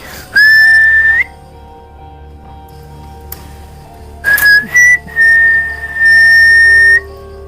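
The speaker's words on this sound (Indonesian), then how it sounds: "Siulin lagi Kak." A person whistles sharp, high, steady notes nearby, at an old train carriage: one long blast, a pause, then several short and long whistles in a row.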